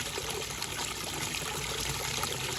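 Pool water pumped through 100 feet of black hose trickles and splashes back into the pool, a steady, even gush of running water.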